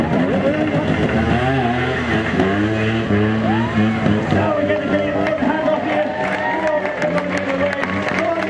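A trials motorcycle engine revs up hard through the gears near a river, its rising and falling buzz repeating in bursts, while someone talks over it.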